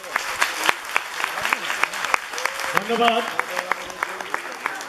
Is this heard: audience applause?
yes